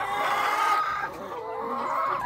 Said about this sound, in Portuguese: Olha lá como é que elas já estão cantando.